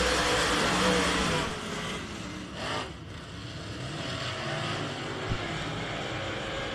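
Modified touring race cars of the United States Modified Touring Series roar off the start of a heat race at RPM Speedway, a dense, continuous engine drone with a brief swell of passing noise midway, steady and fairly loud throughout.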